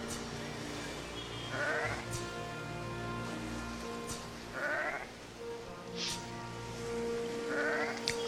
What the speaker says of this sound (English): Let's kill some more sheep here.